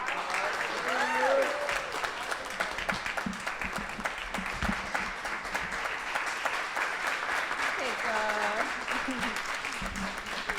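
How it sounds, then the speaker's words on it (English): Sustained audience applause for Dr. Rachel Knox after her talk at a cannabis education event, steady dense clapping throughout with brief voices and cheers rising over it. "Dr. Rachel Knox one more round of applause?"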